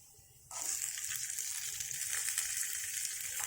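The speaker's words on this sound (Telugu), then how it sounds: "ఇవ్వండి మిరపకాయలు వేస్తున్నాను" Green chillies dropped into hot oil in a pan while making a coconut milk chutney, bursting into a loud, steady sizzle that starts abruptly and continues without pause.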